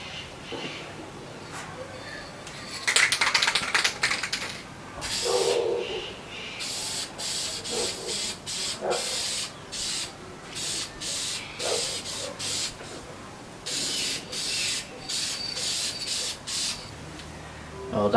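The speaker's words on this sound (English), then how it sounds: "it's time to put a coat of paint on this thing" Spray paint is applied to a part for a Triumph Dolomite Sprint rally car, heard as a string of short, close hissing bursts with a few longer sprays and quiet gaps between.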